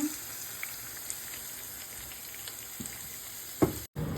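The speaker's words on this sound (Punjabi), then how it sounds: "ਇਹਨਾਂ ਨੂੰ ਮੈਂ ਹਾਫ ਹਾਫ ਫਰਾਈ ਕੀਤਾ" Stuffed bitter gourds (karela) half-frying in a pan, a soft steady sizzle with faint crackles and a few louder pops or stirring clatters near the end.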